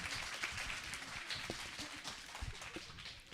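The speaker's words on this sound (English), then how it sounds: "Big round of applause to her once again." An audience at a Bhagavad Gita recitation contest gives a faint, steady round of applause, many hands clapping together at a distance with no talk over it.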